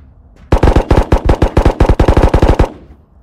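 Automatic rifle fire in the video game Ghosts of Tabor, a loud close burst of about twenty rapid shots in quick rhythm, then stopping, with no talk over it.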